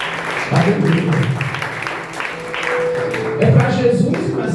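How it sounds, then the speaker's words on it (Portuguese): A church congregation claps hands during worship, steady rhythmic applause from a crowd under a voice speaking over a microphone, rising again toward the end. "É para Jesus e com essas palmas."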